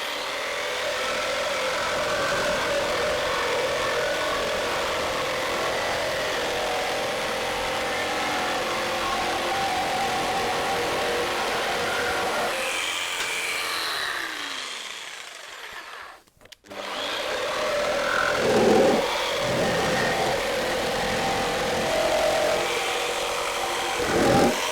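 A jigsaw with pendulum action switched off cuts through wood, a loud, continuous buzzing whine that runs steadily, drops out briefly near the end, then restarts with a rougher, uneven cut.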